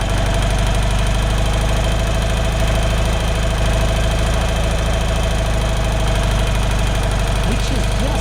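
BMW R75/6 air-cooled boxer motorcycle engine idling steadily close by during carburettor tuning, with an even, slightly knocking rhythm throughout and no talking.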